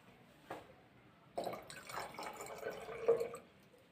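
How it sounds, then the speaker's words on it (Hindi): Hydrogen peroxide solution is poured into a chemical mixture, a faint tap followed by a short, soft splashing trickle of liquid lasting about two seconds, close and quiet. "फिर इसमें इस हाइड्रोजन परऑक्साइड के सॉल्यूशन को डालेंगे।"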